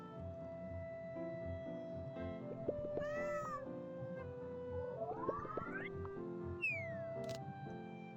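A cat meows in a comedy sketch: several rising and falling drawn-out calls, fairly clear over a steady low background hum, with no talk.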